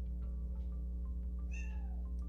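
A cat meows loudly once, a drawn-out wavering cry rising out of a steady electronic hum and soft background clicks.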